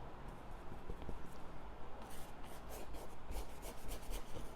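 Soft, continuous rubbing and scraping of a paintbrush's bristles dragged across a textured canvas with oil paint in repeated strokes, close and quiet.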